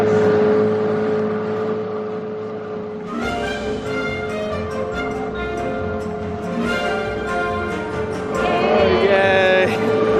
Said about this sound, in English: When our dinghy engine runs good, she's a nice sound.